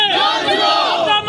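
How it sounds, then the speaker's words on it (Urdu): Protesters gather on a railway colony ground, chanting slogans against the railway administration as a dense crowd of voices carries a rising, harmonic shout that stays loud and sustained throughout. "مظاہرین نے ریلوے انتظامیہ کے خلاف نعرے بازی کی"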